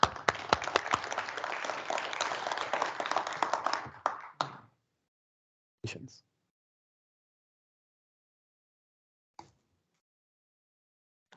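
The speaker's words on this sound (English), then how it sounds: "So let's all please give a warm round of applause to Carrie Cron" Warm applause from a conference audience at a geographic information science opening session, dense clapping for about four seconds that quickly thins out and stops, followed by a few isolated claps in near silence.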